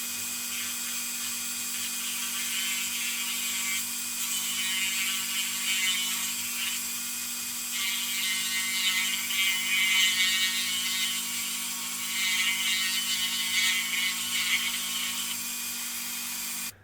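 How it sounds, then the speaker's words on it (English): A Dremel rotary tool with a small stone bit grinds and cleans up the wheel wells of a scale model trailer, a continuous high whirring hum with rising and falling grinding bursts, no talking. "So I'm just going to use a Dremel with a little stone bit"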